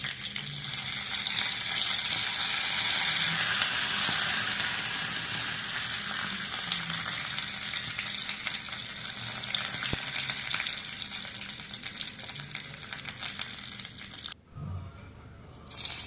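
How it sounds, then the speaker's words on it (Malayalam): Mustard seeds, dried red chilli and curry leaves fry in hot oil with a dense, steady sizzle and small pops, close and continuous, fading at the end. "സാധാരണ നമ്മൾ കടുക് വറുക്കുന്ന പോലെ തന്നെ ഉണക്കമുളക് ഇട്ടിട്ടുണ്ട്"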